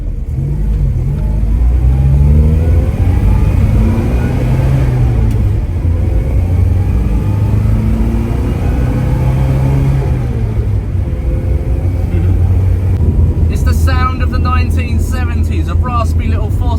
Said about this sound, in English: A raspy little four-cylinder engine and a 4-speed manual gearbox.